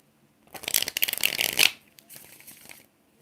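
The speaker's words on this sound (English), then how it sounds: "4 more shuffles" Tarot cards are shuffled close by in a quick riffle of rapid crisp flutters lasting about a second, then a softer second pass of card sliding, with no talk.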